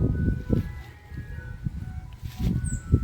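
A faint, tinkling ice cream truck melody plays in the distance, thin steady tones over low rumbling background noise.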